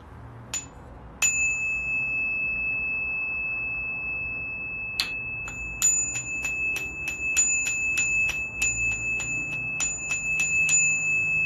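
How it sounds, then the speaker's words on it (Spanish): Small hand bells or chimes struck for energy cleansing ring out in a series of bright, sustained tones, a couple of isolated strikes followed by a steady run of repeated rings close to the listener. "Puede ser con campanas o con este tipo de cositas."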